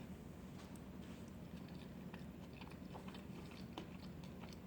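Chewing a mouthful of low-carb keto tuna salad with green olives, onion and cheese, soft close crunching and wet mastication sounds repeating steadily with no talk.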